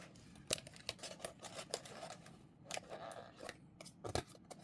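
A cardboard box holding a SkullPanda Off Mode series plush doll is cut and pried open at close range, a run of sharp snips, clicks and scrapes with quiet gaps between them.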